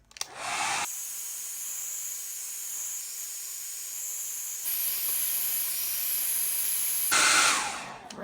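A hair dryer blowing on watercolor paint, a loud steady rushing hiss that switches on abruptly, shifts pitch partway through and then cuts off, close to the mic with no talking.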